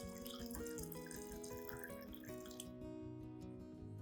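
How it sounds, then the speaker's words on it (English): Hot water runs and splashes steadily into a glass cup for a few seconds, then tapers off into light trickles and drips. "add about 500 milliliters of hot water"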